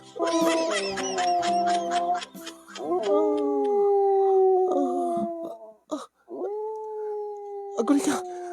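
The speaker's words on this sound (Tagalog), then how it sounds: "Kasta ka dit ungol ti aso no makakita at pusa." A dog howls in long, wavering drawn-out cries, close and loud, with a few short yips and breaks between the howls and bits of voice behind.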